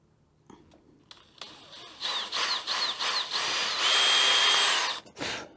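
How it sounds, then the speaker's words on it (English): Power drill re-drilling a hole in a broken mass-produced wooden drawer. A few short bursts, then a sustained whining run, close and fairly loud, with no talking. "we're going to drill that back out"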